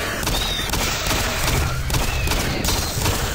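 Gunfire in Doom 3, a dense continuous roar of shots and impacts at steady loudness, with no clear gaps between them.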